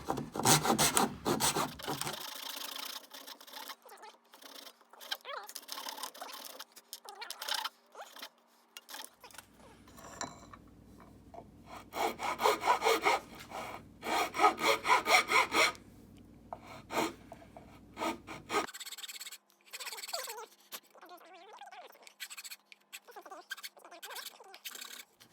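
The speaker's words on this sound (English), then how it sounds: "I've just done a little bit of cleaning and carving to try and get those grooves down" Hand carving and cleaning grooves in a wooden muddler: repeated scraping and rasping strokes on wood, close and fairly quiet, in uneven bursts with short pauses between passes.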